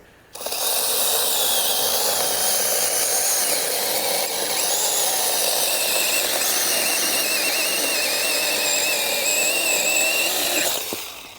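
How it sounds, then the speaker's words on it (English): IMOUM 21V cordless electric chainsaw runs at a steady high-pitched whine while cutting through a branch about five inches thick, loud and close, then stops abruptly near the end. "That chain didn't slow down at all while I was cutting that."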